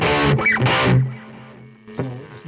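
Electric guitar through a NUX amp-modelling unit, with a modulation effect placed after the distortion block, plays distorted sustained notes: two strummed chords in the first second and another about two seconds in, each ringing loud and fuzzy before decaying.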